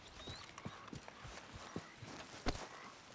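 Horse hooves clip-clop at a steady walking pace in Red Dead Redemption 2, soft and fairly close, with a sharper louder footfall near the end and no talk over them.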